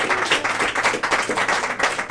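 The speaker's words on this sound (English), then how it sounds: "Give her another nice big round of applause" Audience applause for a young birthday musician at a traditional Irish music session in a pub in Graignamanagh, County Kilkenny: dense, steady clapping from a crowd, close and fairly loud throughout.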